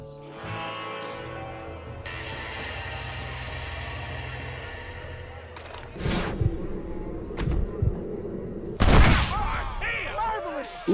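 Gunfire rings out during a shootout in Red Dead Redemption, a few sharp loud cracks and thuds breaking in after a stretch of voices and music.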